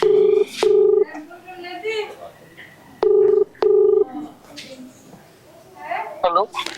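Telephone tones sound while a call is being placed at a veterinary hospital in Jaipur: two pairs of loud steady beeps separated by pauses, with people talking throughout and around them.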